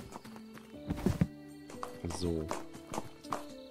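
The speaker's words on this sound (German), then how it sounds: "Weil es kommen schon Pferde an" Horses clip-clopping in Tavern Manager Simulator, hooves arriving on the ground in irregular knocks alongside snorts and a whinny, with someone speaking German over them.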